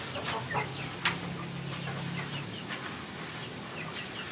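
Free-range village chickens clucking on an Indonesian farm, with soft scattered clucks and short calls over several seconds, close by against a faint steady background hiss.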